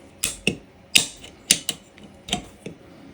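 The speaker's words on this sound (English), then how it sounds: "put it into our cleaver" A TREND Networks optical fiber cleaver works on a fiber, giving a handful of sharp mechanical clicks and snaps at irregular intervals, close and crisp with no talk.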